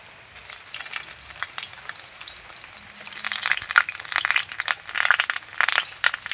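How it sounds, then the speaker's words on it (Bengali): Banana-leaf-wrapped hilsa fish frying in hot oil in a pan over a wood fire, a steady close sizzle with bursts of crackling spitting that grow louder partway through. "এই যে কলা পাতায় মোড়া মাছগুলো এবার একটা একটা করে আমি ভেজে নেবো"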